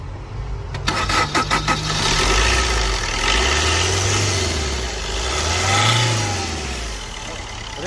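A Chevrolet Enjoy car with a crank-no-start problem catches after a few quick cranking clicks, then its engine revs up and down twice, loud and close, with a voice faintly audible underneath.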